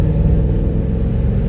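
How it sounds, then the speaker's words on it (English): A Mercedes E55 AMG, fresh from maintenance and modifications, at full throttle on the street, its engine a loud, close, continuous low rumble with no talk over it. "We've got to floor it, right?"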